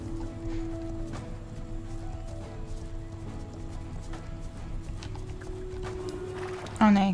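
Horse hooves galloping in Star Stable Online: a steady rhythmic clip-clop runs under background music and speech, with a louder snort or whinny-like burst at the very end.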